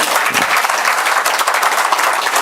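An audience at a religious discourse by Sri Pundrik Goswami applauds, a dense, loud and steady wash of clapping from many hands that holds throughout, with no voice over it.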